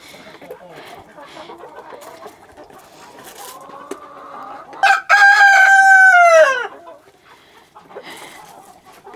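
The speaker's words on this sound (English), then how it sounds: "So, chickens eating chicken." Backyard chickens cluck softly and intermittently as they eat cooked chicken, and a loud rooster crow rings out in the middle, followed by quieter clucking and faint talk.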